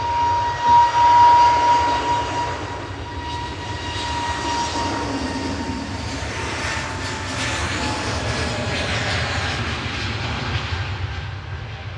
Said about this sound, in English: EasyJet departing to Milan. OE LSV departing there with flight 3836 A320neo.